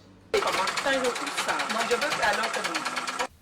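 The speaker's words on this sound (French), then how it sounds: "Des machines à coudre qui tournent à plein régime dans les ateliers de couture" Sewing machines in a tailoring workshop run at full speed, a dense, steady rapid mechanical chatter that starts abruptly and stops just as suddenly, loud and close, with a voice faintly underneath.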